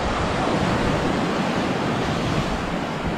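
Loud, steady wash of waves breaking against a rocky shoreline beside a cliffside hiking trail in Peninsula State Park, Door County, a continuous broadband roar with no pauses and no talking.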